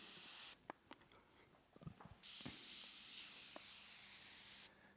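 An Iwata HP-C airbrush sprays paint in two bursts of steady airy hiss, with quiet clicks and faint handling between them, close and even.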